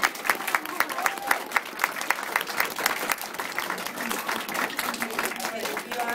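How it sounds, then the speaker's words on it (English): A class of children claps hands together, a dense patter of applause that goes on steadily, with voices mixed in. "Stand up, clap your hands."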